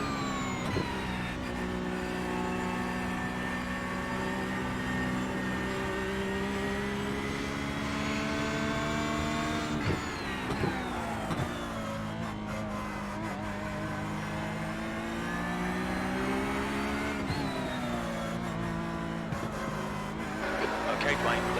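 A Ferrari GT3 race car engine in iRacing at Sebring drones continuously with rising and falling harmonic sweeps through gear changes, loud and close throughout, while a driver talks over it.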